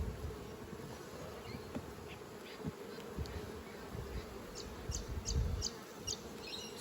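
Bees hum and buzz steadily around a flow-frame hive, a dense low drone with individual insects droning past close by.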